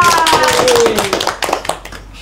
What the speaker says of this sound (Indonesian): Ya, benar, kasih aplaus.